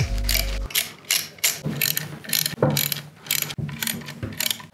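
A ratchet wrench loosens Allen key bolts on a Pro Drive motor mount, with a short low whir at the start and then a steady run of repeated, close ratcheting clicks in quick bursts.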